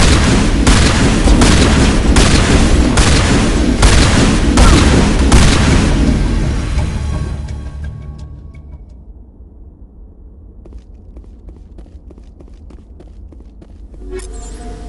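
Gunfire in the Mass Effect Legendary Edition video game: a dense, loud burst of rapid shots and booms that fades out into scattered faint clicks and footsteps.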